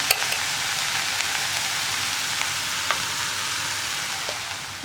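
Ground coconut added to a spinach and dal stir-fry in a hot pan gives a steady, close sizzle and frying hiss, with faint occasional taps, and no talking.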